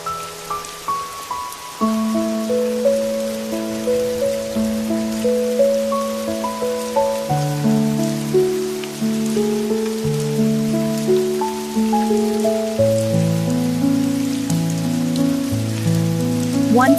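Steady rain falls on a surface during a cozy family day at home, a continuous soft patter running throughout beneath a melodic tune of stepping notes.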